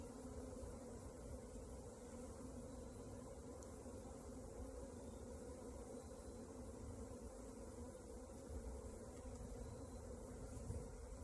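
Honey bees hum in an open hive crowded with young bees, a faint, steady, close buzzing drone that carries on without talk.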